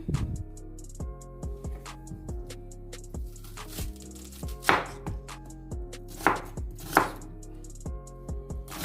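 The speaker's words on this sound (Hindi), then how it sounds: "पहले सबसे हम जो है प्याज वो काटना स्टार्ट करते हैं।" Onions sliced with a knife on a cutting board for a mutton and bottle gourd curry, a steady series of close, crisp chops with a few louder strikes, no talking.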